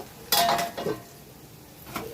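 A lid goes onto a cooking pot where vegetables simmer in a little water, a short metallic clank and clink followed by quieter rattling, close and brief.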